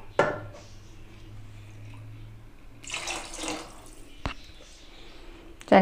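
Water is poured from a tap into a pot of vegetable macaroni soup, a brief splashing burst midway between clinks and a faint, steady kitchen background.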